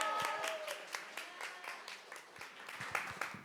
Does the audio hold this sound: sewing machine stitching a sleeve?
no